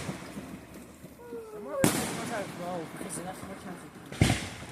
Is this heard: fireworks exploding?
yes